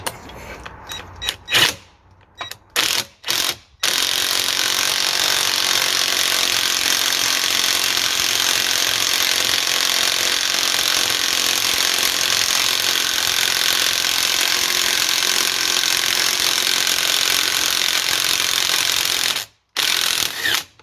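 Pneumatic impact wrench hammering away at a rear wishbone bushing on a 2004 Audi A4 B6 held in a vise, a few short bursts followed by a long, loud, steady rattling run that stops briefly before resuming.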